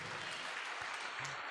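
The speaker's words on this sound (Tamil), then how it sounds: "ஒரு கைத்தட்டை கொடுங்க ஆண்டவருக்கு." A church congregation claps together in a short, steady burst of applause, a dense wash of many hands with a faint low hum and a couple of soft thumps beneath.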